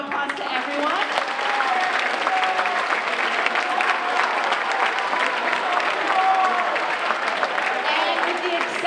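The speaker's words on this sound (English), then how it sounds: "With that, we're going to give another round of applause to everyone." An audience of students and families applauds at the close of eighth-grade speeches, sustained steady clapping filling the room for about nine seconds, loud and close.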